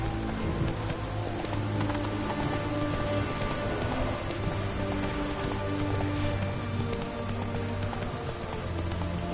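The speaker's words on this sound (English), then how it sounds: "It's raining. Of course it's going to be damp." Steady rain patters continuously over a dense, ambient soundscape in the video game The Witcher 3 on PS4, with a rhythmic clip-clop of hooves running underneath; no voices.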